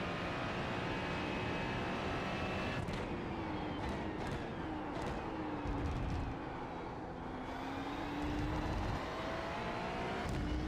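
A Ferrari GT3 race car revving in a racing video game at Laguna Seca, run in first gear: a steady, fairly quiet engine roar throughout, its pitch bending down and back up as the car brakes and accelerates.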